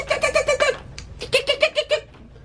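A human voice imitates a squirrel chattering with two quick runs of about five sharp, squeaky syllables, loud and close, separated by a short pause.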